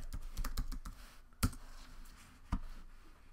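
Keys on a computer keyboard tap out a quick burst of clicks, then two louder isolated strokes follow after short pauses, close and clear with no voices.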